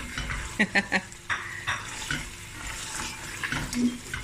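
Meat bones with tomato paste frying in a stew pot for a Cape Malay tomato bredie, heard as a steady sizzle with a run of sharp scraping stirs and clanks against the pot near the start.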